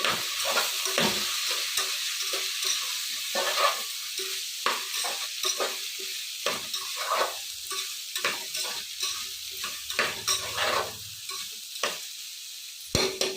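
Sprouted horse gram frying and being stirred in a pan, with a soft continuous sizzle broken by repeated scraping stirs, close and fairly quiet, no talking.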